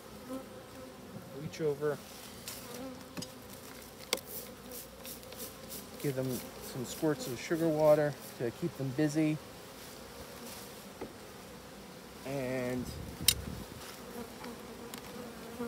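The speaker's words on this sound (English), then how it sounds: "take a look at these bees" Honeybees buzz around an opened hive during a beekeeping inspection of brood frames, a steady insect drone running throughout while someone talks over it nearby.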